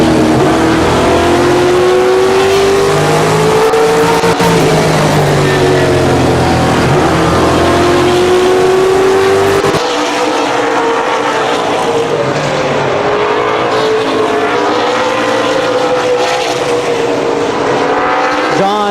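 Race cars at Columbus Motor Speedway howl around the oval during the main event, loud sustained engine roars with rising and falling pitch as cars pass, an announcer talking over the racing.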